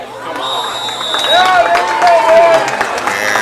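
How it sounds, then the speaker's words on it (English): Crowd noise at a varsity high school football game between Fair Haven and Mt Mansfield, a steady murmur of applause and cheering with scattered voices and a whistle-like tone rising over the babble. "That applause is probably because we have a penalty"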